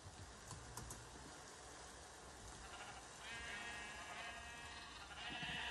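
Sheep bleats from rainbow-coloured sheep in the Minecraft video game, a few short calls over a steady game background with faint clicking, growing a little louder toward the end.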